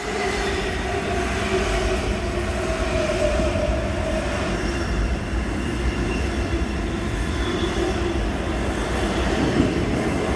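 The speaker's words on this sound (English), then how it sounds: "And here we have a train. It's another express heading towards Manhattan." A Long Island Rail Road express train bound for Penn Station passes through Woodside station with a loud, sustained roar of rolling wheels, a faint squealing edge and steady rumble filling the whole stretch, no voices.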